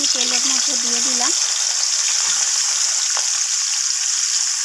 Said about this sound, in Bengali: হলুদ আর লবণ মাখিয়ে রাখা মৌরলা মাছগুলো আমি তেলের মধ্যে দিয়ে দিলাম